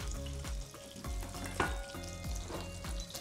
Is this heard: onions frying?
yes